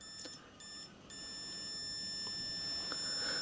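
A digital multimeter on continuity test across e-bike throttle wires sounds short high-pitched beeps, a couple of brief tones followed by one sustained beep, faint against quiet room noise.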